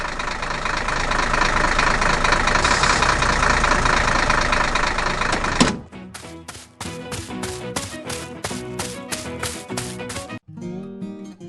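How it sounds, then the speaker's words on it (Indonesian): A cartoon tractor works hard in a forest, its engine giving a dense, continuous roar for about six seconds before it cuts off sharply into bouncy, plucked musical notes. "Traktor sedang bekerja keras di hutan."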